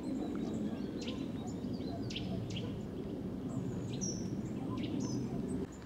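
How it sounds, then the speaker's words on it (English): Several short, sharp nuthatch call notes ring out on a walk between Shiplake and Henley, over a steady low rumble of distant Heathrow aircraft noise. "In fact, I do recognise it. It's that nuthatch."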